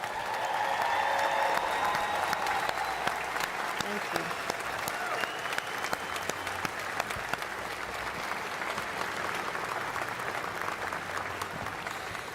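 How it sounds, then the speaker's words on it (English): Outdoor audience at a Fourth of July celebration at the National Archives giving sustained applause to military members and veterans, a broad, steady wash of clapping running throughout, with a brief spoken thanks near the start. "join me in giving these folks a big hand clap of appreciation"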